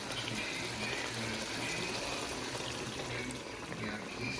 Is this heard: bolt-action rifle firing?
no